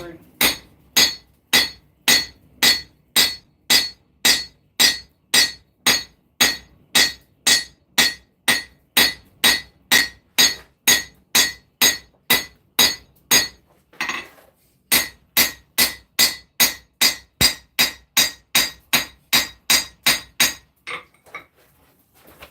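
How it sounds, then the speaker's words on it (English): Hot steel struck with a hammer while forging a knife: a long, steady run of loud ringing blows at an even rhythm, briefly pausing before the strikes resume, close up. "And back to hammering."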